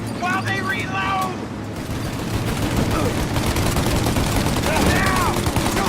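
Heavy automatic gunfire in Mafia Definitive Edition, a relentless loud fusillade of rapid shots with booming hits, while voices shout briefly at the start and again near the end.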